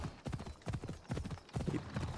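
Horse hooves clip-clop in Assassin's Creed Odyssey, a steady run of close, even hoofbeats across the clip with a brief quieter gap near the start.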